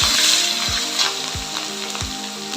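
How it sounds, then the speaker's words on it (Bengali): Potatoes with chopped tomato and slit green chilli sizzle loudly in hot oil, with a spatula scraping the pan in a steady rhythm about every two-thirds of a second. "আলুটা বেশ ভাজা হয়ে গেছে, সামান্য একটু টমেটো কুচি আর অল্প একটু কাঁচা লঙ্কা চেরা দিয়ে একটু সাঁতলে"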